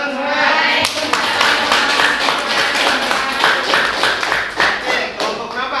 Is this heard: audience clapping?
yes